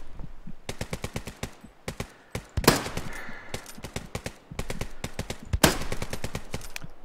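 Dense gunfire in the World War II shooter Hell Let Loose: rapid bursts of sharp, close shots in rhythmic volleys, with a few heavier blasts among them and no talk.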